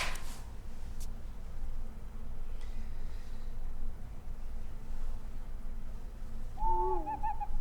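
Owl hoot from a Hearthstone card in the video game: a soft wavering hooting call near the end, over a low steady hum and faint game sounds, with no talk.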